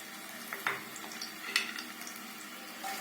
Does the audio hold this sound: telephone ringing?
no